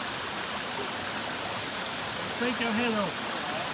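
Waterfall rushing beside a hiking trail, a steady broadband roar filling the scene throughout, with people talking briefly over it.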